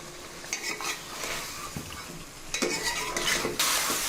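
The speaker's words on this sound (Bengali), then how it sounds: "এখন এই কাঁচা কলাটা মশলার সঙ্গে বেশ ভালোভাবে কষিয়ে নিতে হবে।" Green banana pieces stir-fried with spice masala in a pan give a steady sizzle, with scraping stirs and utensil clatter bursting out in clusters.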